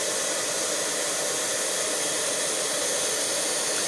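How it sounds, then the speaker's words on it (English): Heat gun blowing hot air over embossing powder on a stamped paper image, a steady, loud broadband whoosh filling the whole stretch with no talk. "You want to hold your heat gun"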